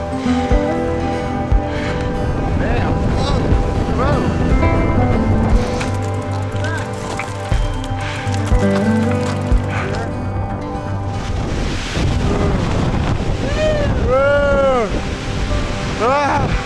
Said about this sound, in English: Blustery up here today.